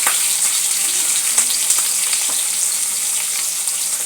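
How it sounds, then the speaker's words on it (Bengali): Bhetki fish pieces frying in mustard oil, a loud, dense, continuous sizzle with occasional crackles and pops, close up and steady throughout with no talk. "মাছগুলো এক এক করে ভেজে নেব। ভালো করে ভেজে নিতে হবে।"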